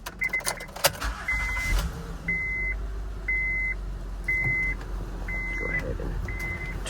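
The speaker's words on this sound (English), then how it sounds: "Gonna turn on the car." A Honda Pilot with a newly replaced alternator is switched on; a car's repeated warning chime beeps at a steady rhythm over a low idle hum, after a few clunks and key handling near the dashboard.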